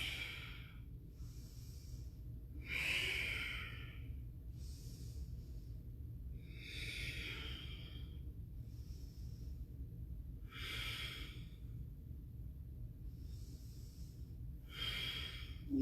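Slow, deep yoga breaths during a power flow class held in a bridge or wheel pose, each broad breathy inhale and exhale rising and falling in a steady rhythm about every two seconds over a low background hum, close and clear, no talking.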